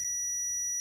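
Multimeter set to continuity, testing through tin foil while mapping cable lines, giving one steady high-pitched electronic beep that holds for under a second, clean and close with a faint background hum.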